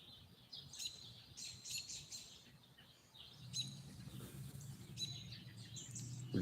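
Birds chirp and tweet in quick bursts through an outdoor natural setting, the calls fairly clear over a low, steady background rumble.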